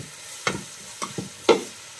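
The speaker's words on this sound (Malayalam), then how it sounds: "ഈ സവാള നന്നായിട്ടൊന്ന് വഴലണം" Sliced onions with a little salt being sautéed and stirred in a pan for a fish curry, a few soft scraping stirs and light sizzle taps spaced apart, close and quiet with no voices.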